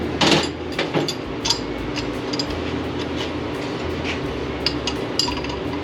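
Metal hammer blows on a race car part resting on a table ring out as sharp clinks, a few strikes spaced irregularly over steady workshop background noise.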